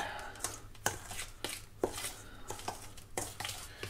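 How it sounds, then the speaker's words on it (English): Dry cornbread ingredients are mixed in a bowl with a utensil, giving quiet, regular scraping and tapping strokes, close up and fairly faint, with no talk. "I'm going to go ahead and mix those up."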